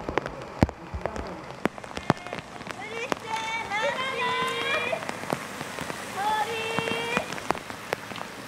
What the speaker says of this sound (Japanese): 強く降り続ける雨でコースがスリッピーになった